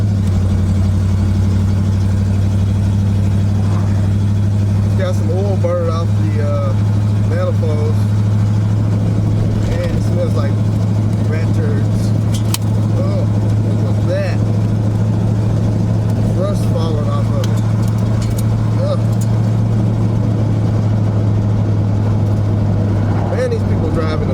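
The engine of a 1976 GMC Sprint hums steadily as it runs and drives, a constant loud drone with a voice talking over it throughout.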